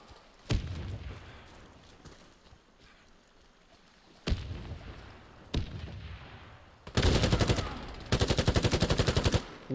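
Desert Tech MDRX submachine gun fire in a first-person shooter game, with short sharp bursts and single shots early, then two longer rapid automatic bursts, loud and close over faint game ambience.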